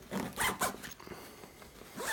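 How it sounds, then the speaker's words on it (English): A zipper is drawn shut on a 30-liter zip-access daypack from Alchemy Equipment, with several quick close rasping pulls followed by a short pause and a final tug, close and clear with no talk. "Just zip that up."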